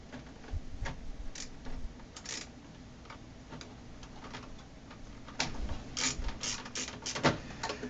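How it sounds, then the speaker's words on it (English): A ratchet tightening screws during a file server upgrade, close sequences of quick clicks in short bursts with small metallic handling noises and pauses between, no talking. "Ratchet everything down again."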